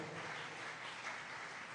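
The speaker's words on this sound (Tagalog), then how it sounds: "pumalakpak ng malakas sa ating mahal na Panginoon" A church congregation at a JMCIM worship service in San Carlos City, Pangasinan, claps loudly and continuously, a dense sustained wave of applause filling the room.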